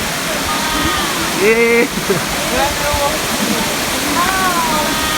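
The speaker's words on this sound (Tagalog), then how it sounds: "Wow, ladies and gentlemen, welcome to Tumalog Falls." A steady, loud roar of water pours down at Tumalog Falls, a curtain-like waterfall, filling the whole clip while excited voices call out and chatter over it.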